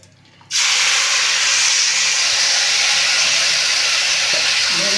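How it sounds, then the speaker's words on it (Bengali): Marinated lote fish is poured into hot oil tempered with cumin and bay leaf, bursting into a sudden loud, close sizzle that stays strong and steady, with no voices. "এই যে মেখে রাখা লোটে মাছ ঢেলে দিলাম।"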